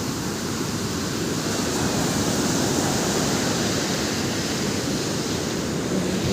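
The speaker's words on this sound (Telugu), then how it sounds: "నా వెనకాల అయితే సముద్రం చూడండి, కళలు ఎలా కొట్టుకొని వస్తున్నాయో" Sea waves crash at RK Beach in Vizag, a loud, continuous roar of surf close by, with no voices over it.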